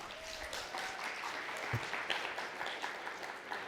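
Steady applause comes from an audience at an accessibility conference presentation, moderate and sustained throughout with no talking over it.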